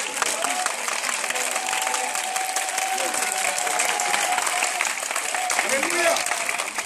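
A church congregation applauds and cheers for Jesus in dense, sustained clapping, with voices calling out over it at close range for the whole stretch.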